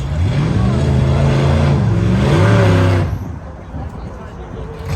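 A loud, rough drag car engine stumbling coming out of the water box at a midnight drag race roars with uneven, wavering pitch that drops off abruptly, leaving a lower background rumble.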